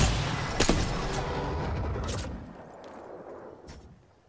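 A grenade blast in the battle-royale shooter Apex Legends: a loud, broadband burst near the start with a second sharp crack, then a rumbling decay with scattered gunfire-like pops fading out.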